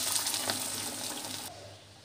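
Water pouring into a pan for cooking upma, a soft steady gushing splash that runs for about a second and a half and then stops, fairly quiet with a faint voice nearby.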